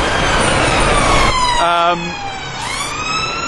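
A wailing ambulance siren sweeps up and down over dense, gridlocked traffic noise, with a steady pitch glide cutting through the engine rumble, fairly close.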